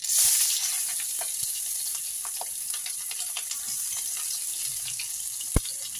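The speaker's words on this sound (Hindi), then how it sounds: "प्याज हमारी भुन गई है।" Chopped onions fry with cumin in a pan for matar bharta, giving a steady, even sizzling hiss throughout with faint scattered ticks and one brief louder knock near the end.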